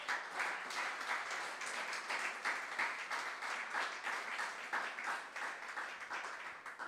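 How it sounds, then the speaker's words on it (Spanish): A church congregation at a Spanish-language sermon gives a sustained round of applause, many hands clapping with a pulsing, uneven rhythm, fairly distant and soft, with no speech over it. "Den una ofrenda de aplauso al Señor"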